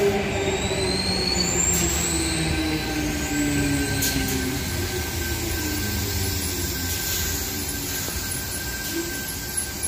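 Sydney train set T121 pulls out of platform 2 at Heathcote on a Helensburgh service, a steady close rumble carrying thin, sustained wheel squeal tones throughout.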